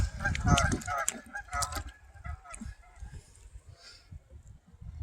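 Several loud goose honks crowd together at the start, then fade into quieter scattered calls with faint background noise.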